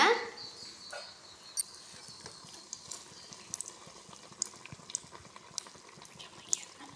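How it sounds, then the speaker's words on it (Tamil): Small balls of maida dough deep-frying in hot oil for a quick sweet bonda, a steady soft bubbling hiss with scattered faint pops and crackles, fairly quiet and continuous throughout. "எண்ணெய் காஞ்சிருச்சு நம்ம அந்த மைதா மாவை பொறிச்சு எடுத்துக்கலாம்"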